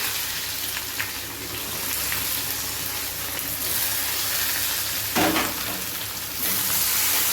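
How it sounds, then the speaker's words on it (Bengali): Chopped onion frying in hot oil with cumin and whole garam masala makes a steady, close hiss and crackle, with a brief louder burst partway through and no voices. "এখন আমি ফোড়নের মধ্যে পেঁয়াজ কুচি দেব।"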